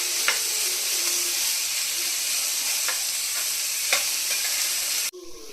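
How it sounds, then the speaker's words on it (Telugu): Vegetables fry in a pan with mustard seeds, a constant loud hissing sizzle with a few light stirring clicks, cutting off abruptly near the end. "దాని పచ్చి వాసన పోయేంత వరకు ఇలా ఫ్రై చేయాలి"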